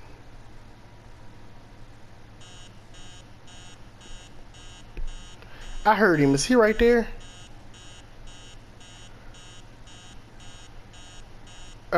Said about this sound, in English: Let's cut the alarm off.